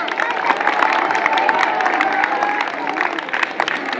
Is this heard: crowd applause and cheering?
yes